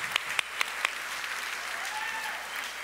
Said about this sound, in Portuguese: Vamos aplaudir essa galera da Família On aí,